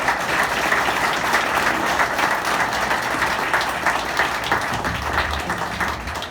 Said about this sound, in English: So how about a great round of applause for a great friend of ours doing a wonderful job, District Attorney Marion Ryan.